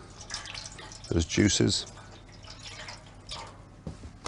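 Water splashes briefly into a roasting pan holding lamb fat and olive oil, making a short liquid gush in the middle with a quieter trickle after it, as someone talks.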